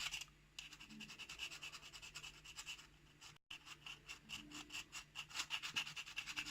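A knife blade scraping the gallium-weakened shackle of a Master padlock, a close, fairly quiet rasping that repeats in quick strokes with a brief pause midway.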